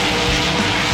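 Monster truck engine revving hard in BeamNG Drive, a loud, steady, dense roar with no break, run up for a high-speed jump at a Monster Jam freestyle event.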